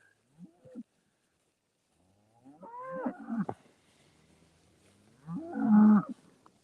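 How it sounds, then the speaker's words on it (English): Cattle on a farm mooing: a short faint call, then two longer drawn-out moos a few seconds apart, the last one loudest, with quiet gaps between and no talk. "Happy cows."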